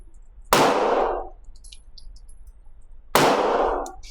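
Two sharp pistol shots from an Atlas Athena V2 fitted with a Trijicon SRO ring out at a range about two and a half seconds apart, each loud crack trailing a short echoing decay.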